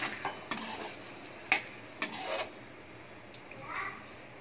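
A spoon stirs kadai paneer in a pan, with a few scraping strokes and metallic clinks over a low background hiss and no talk.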